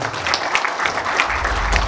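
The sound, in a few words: audience applause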